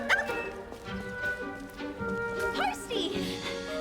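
A dog yips and whimpers in short bursts, heard under music and voices.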